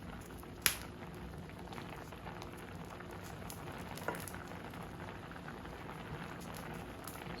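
Bob Evans pork sausages boiling in a pot, a steady close bubbling patter with a couple of sharp little pops, no one talking.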